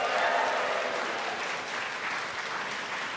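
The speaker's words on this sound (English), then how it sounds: "Let's have a little cheer." A church congregation claps and cheers together, a dense continuous wash of applause that holds steady and slowly eases, with voices mixed into the crowd noise.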